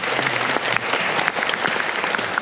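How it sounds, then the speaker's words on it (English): Sustained clapping from an outdoor crowd at a community summer festival in Scarborough, Toronto, dense and even at moderate volume, with a few louder individual claps standing out. "let's give a big round of applause to our healthcare professionals"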